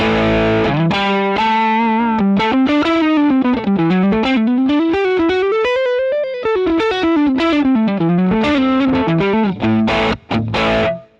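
An electric guitar played through a Boss GX100 using its original built-in speaker cabinet sound rings out loud and distorted, with a melodic run sliding up and down over sustained chords before a few closing strums.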